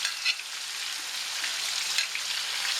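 Onions and green chillies sizzling and crackling in hot oil in a pan, a steady close hiss with a few brighter spits, no voices.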